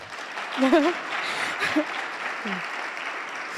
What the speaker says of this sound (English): Can we please give a round of applause for Mercedes Blea Davis